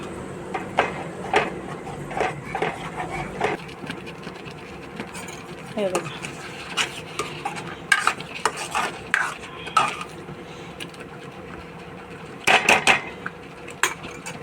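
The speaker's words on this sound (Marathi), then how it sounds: "बेसन पीठ सारखं असं पळीने हलवत राहायचं" A metal ladle scrapes and clinks against a pan in irregular strokes as thick gram flour batter is stirred, with occasional louder knocks.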